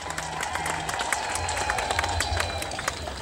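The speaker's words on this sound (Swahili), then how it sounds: "Makofi ndugu zangu kwa Mheshimiwa Rais" Crowd applause for the President at an outdoor public meeting in Tanzania: a dense, steady patter of many hands clapping, with a low crowd murmur underneath, lasting throughout.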